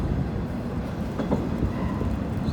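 A 40-car freight train with four locomotives rumbles along the railroad during switching, a loud, continuous low roar with faint rolling clatter, close by and without talk.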